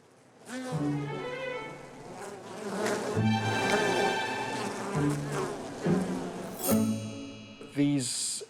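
Honeybees feeding on sugar water make a loud, steady, close buzzing drone with shifting pitch throughout, and several overlapping wingbeat tones swell and fade.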